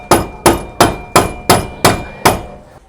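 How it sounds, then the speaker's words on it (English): A rubber mallet hammers a pin during bearing replacement on a Yamaha G29 golf cart hub, six evenly spaced, close, sharp strikes with short decaying rings. "You might need to use that rubber mallet to hammer it down a little bit."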